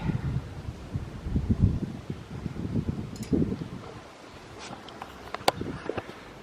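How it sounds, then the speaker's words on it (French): Wind blows outdoors in uneven gusts, rumbling against the microphone, with some light rustling and a few faint clicks. "Ah, il y a du vent."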